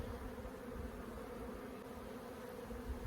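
Honeybees hum from an open backyard hive colony, a faint, steady low drone with no voices over it.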